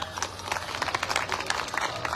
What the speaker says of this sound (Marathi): वाजवा जोऱ्यानं वाजवा टाळ्या